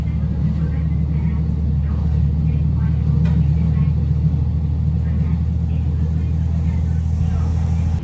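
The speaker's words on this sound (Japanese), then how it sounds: "時々黒い黒煙を吐きながら力強く走るキハ54" KiHa 54 diesel railcar on the Senmo Line in Hokkaido running hard, a loud steady low rumble and drone of the engine heard from inside the carriage, continuous throughout.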